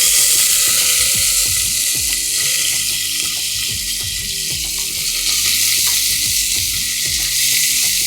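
Chopped tomato hits hot oil in a pan for a veg paya curry and sizzles loudly and steadily, with occasional stirring scrapes and no talking.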